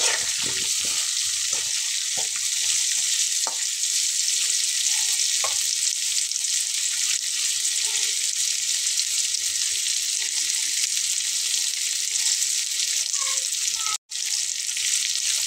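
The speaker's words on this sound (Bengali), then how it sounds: "আলুটাকে একটু ভালো করে নেড়ে চেড়ে নিয়ে তারপরে আমি ডালটা দেবো।" Potatoes frying in a pan, a steady close sizzle with scattered scraping and clinking as they are stirred, continuing throughout with a brief gap near the end.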